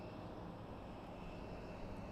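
Airplane engines at Boise Airport, a steady, distant droning rumble that stays even throughout with no voices over it.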